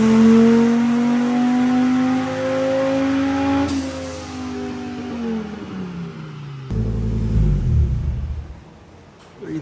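Turbocharged Volvo engine installed in a classic International truck holds high revs against the limiter, its pitch wavering and dropping, then bursts into a loud rough roar near the end, close and with no voices.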